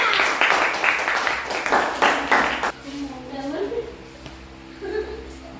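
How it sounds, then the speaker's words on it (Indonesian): A group in a classroom claps in a brisk round of applause that stops abruptly after about three seconds, followed by a voice speaking. "Tepuk tangan semua"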